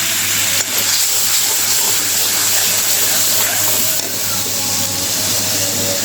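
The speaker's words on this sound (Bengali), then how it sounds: "অল্প একটু জল দিব মশলাটা কষানোর জন্য" Water poured into a hot pan of frying spices with cumin powder and salt, setting off a loud, continuous sizzle and hiss that runs steadily, with one sharp burst near the start.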